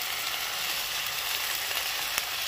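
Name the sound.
sautéing poppy seed paste with ginger, cumin and green chilli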